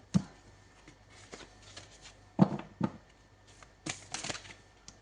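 Tarot cards being handled and shuffled in short, crisp riffling bursts with pauses between them, close and fairly quiet, no voice over them.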